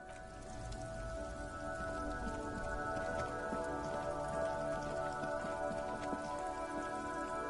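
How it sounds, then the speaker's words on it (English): Steady rain patters on a surface, a dense continuous hiss of drops at even loudness, with faint tonal hum beneath and no speech, as if heard from inside a car stuck in a traffic jam. "It's raining again."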